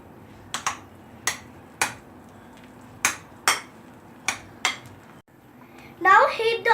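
A spoon knocking against a pot while food is mixed, eight or so sharp separate clinks at an uneven pace, then a brief burst of busier scraping and rustle at the end, close and without talk.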